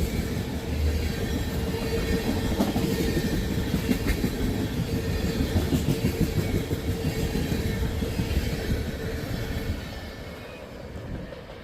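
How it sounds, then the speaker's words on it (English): A tank train of crude oil cars rolls past close by, a loud steady rumble with rhythmic wheel clatter and faint squeal that eases slightly near the end. "Here comes into the tank train. Once again, petroleum crude oil."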